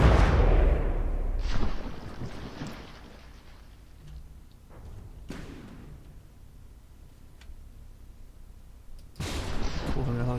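Naval guns fire at enemy ships in the From the Depths video game, a heavy booming blast at the start followed by several spaced, fainter distant shots and a loud thump near the end.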